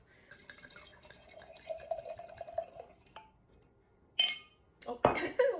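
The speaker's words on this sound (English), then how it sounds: "Oh, what a nice clink." Glasses of inexpensive French Bordeaux red wine clink together near the end, two sharp bright chinks after soft pouring and handling noise, close and fairly quiet.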